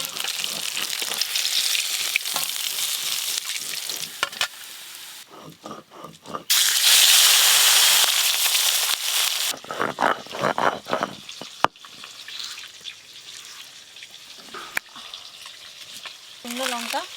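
Rohu fish pieces frying in hot oil in a pan for a spicy fish curry, with continuous sizzling and crackling that swells in bursts alongside some stirring and clinking, close and fairly loud.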